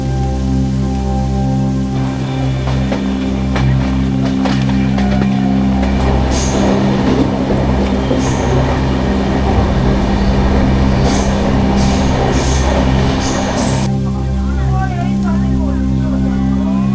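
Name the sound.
Doon Express train arriving at Benares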